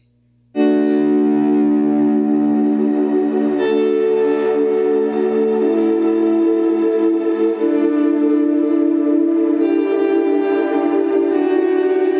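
Ambient electric guitar through a Line 6 POD Go, notes swelled in with a volume pedal, forming one long continuous wash of layered, echoing tones that shift pitch a few times, alone and steady.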